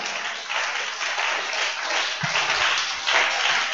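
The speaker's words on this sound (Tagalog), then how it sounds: "Humihina ba palakpak?" A church congregation claps in a continuous, fairly loud wash of many hands, steady throughout with a brief low thump partway through.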